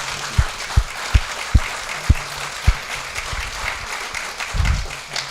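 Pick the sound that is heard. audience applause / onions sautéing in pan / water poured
audience applause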